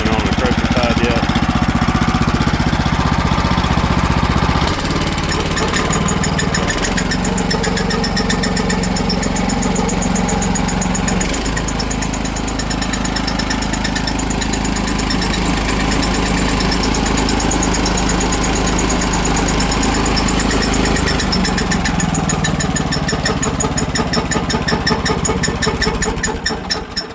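The engine on an SDLJC jaw crusher runs at a steady idle, loud and close, a continuous rumbling chug with faint knocking that holds for the whole stretch, with a couple of brief changes in tone along the way.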